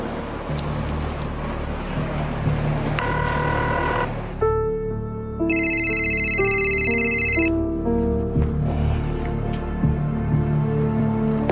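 A telephone rings while a call is placed, with a repeating electronic ring tone partway through over a background of music and room sound.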